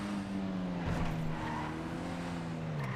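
A front-wheel-drive car in Grand Theft Auto V drones steadily with a sustained engine tone that slowly drifts lower in pitch, with a faint tire-squeal edge partway through.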